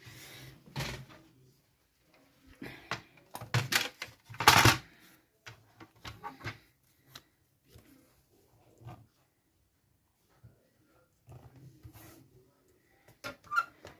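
Paper being trimmed to size for an autumn-themed craft project with a leaf stencil and stickers, heard as scattered dry snips, taps and rustles in short bursts separated by quiet gaps.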